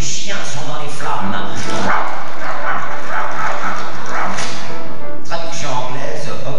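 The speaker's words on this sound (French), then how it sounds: "Les chiens sont dans les flammes." Dogs barking loudly and repeatedly, close and overlapping, with a voice talking over the barks throughout.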